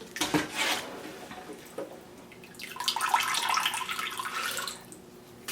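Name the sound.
bone broth dripping through a colander into a basin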